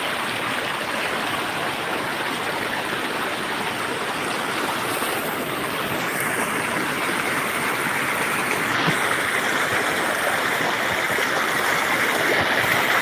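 Strong, fast-flowing floodwater rushing continuously in a loud, dense roar, close by and unbroken, with no talk over it.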